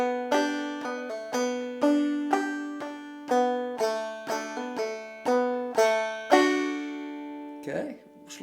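Banjo picking the chorus of a song, with the third string carrying the melody; a steady run of bright plucked notes repeats several times up close, ending in a brief rustle.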